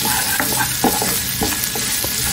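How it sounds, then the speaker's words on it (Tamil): Chopped onions and green chilies frying in hot oil in a pan for rava kichadi, a steady close sizzle with scattered crackles and spoon-stirring scrapes, no voices. "ஸோ அப்படியே எண்ணெயிலேக்கு வெங்காயம் வேகட்டும்"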